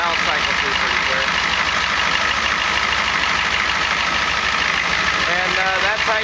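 Truck engine idling on ATF as fuel, a steady close rumble with a regular low throb that runs throughout, while someone talks over it.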